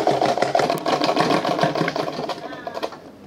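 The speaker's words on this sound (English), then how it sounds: "So I'm going to sew it on like this, down on both sides to make the inside neat." Sewing machine stitching taping onto the inside edges of an Ankara fabric handbag, a fast steady mechanical whir running close and loud for a few seconds before easing off near the end.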